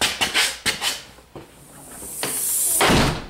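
The front door of a condo knocks and rattles in several quick thumps, followed by a gust of hissing air and a final heavier bump as it shuts.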